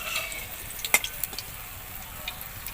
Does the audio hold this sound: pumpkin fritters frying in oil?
yes